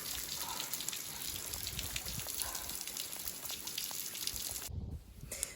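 Rain pattering steadily with scattered drips and taps, fairly quiet, cutting off abruptly near the end before resuming faintly.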